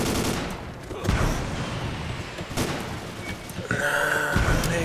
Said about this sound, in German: Dauerfeuer bringt gar nichts, glaube ich.